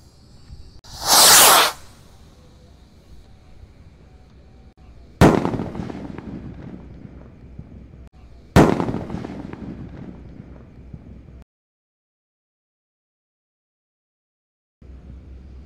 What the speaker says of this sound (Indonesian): Roket Mars terbesar siap meluncur.